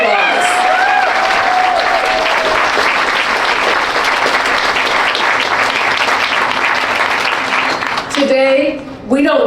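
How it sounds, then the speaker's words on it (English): Sustained, loud applause from an audience fills a grand opening ceremony for a senior housing site in Tacoma, Pierce County, with dense clapping and some crowd noise throughout, fading near the end as a voice comes in. "Please give her another round of applause."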